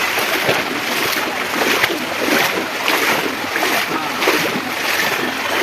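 Water rushes and churns at Kakkidikkal waterfall in a dense, continuous roar with rhythmic surges, loud and close with no one speaking.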